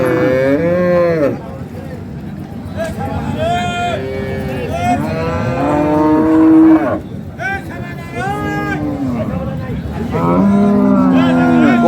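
A high-breed dairy cow with her calf at the Ambari cattle market lets out repeated loud, drawn-out moos, close by, with soft crowd noise underneath.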